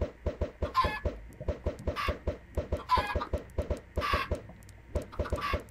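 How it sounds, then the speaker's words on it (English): Chickens clucking in the Minecraft video game, a steady run of short, regular clucks with a few louder squawks mixed in, close and clear with no talking. "You have a bunch of chickens running around."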